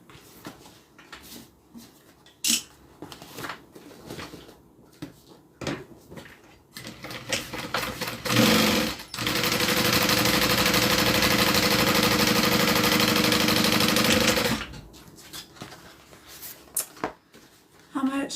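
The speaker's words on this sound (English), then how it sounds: "now I'm going to open it up and do a top stitch" A sewing machine runs a steady, continuous top stitch along a zippered bag for several seconds in the middle, loud and close, with clicks, handling noise and talking before and after.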